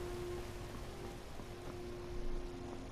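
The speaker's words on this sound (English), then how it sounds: "It stopped raining? Now it's sprinkling." Light rain patters steadily in Skyrim, with soft drops falling on surfaces over a low ambient bed and a faint sustained tone, no voices.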